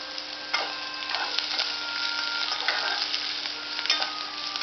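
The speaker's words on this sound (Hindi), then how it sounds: "प्याज को गुलाबी होने तक भूनेंगे, हल्का गुलाबी करें, ज़्यादा नहीं।" Onions fry in a pan for a drumstick-leaf (moringa) dish, a steady close sizzle with occasional crackles and stirring scrapes, no talk.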